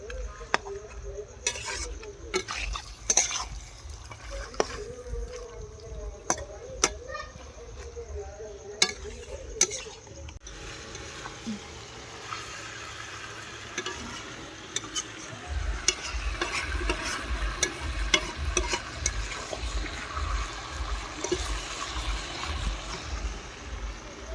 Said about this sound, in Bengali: মাংসটা সুন্দর কষানো হয়ে গেছে।